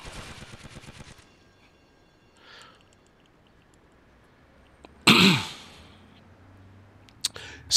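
Gunfire bursts in a firefight from the game GTA Vice City: a rapid automatic rattle opens the clip, then a loud single blast near the five-second mark and sharp cracks toward the end, with quiet gaps between.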